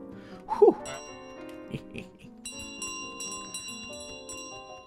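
A bell rings in Untitled Goose Game, a bright metallic strike followed by several lighter tinkling chimes and a sustained ringing tone that fades, standing mostly alone.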